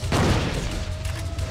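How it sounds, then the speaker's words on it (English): A gunshot booms in Silent Hill 2, one loud heavy blast with a deep low-end thump that rumbles and fades over a second, a faint steady tone ringing beneath. "Oh, I think I just have to shoot her."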